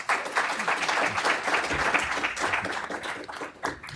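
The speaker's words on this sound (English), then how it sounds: "So can we just give them a round of applause first?" A conference audience applauds a panel of speakers on a startup hiring session: a short burst of clapping from a modest crowd, moderately loud and fading slightly toward the end.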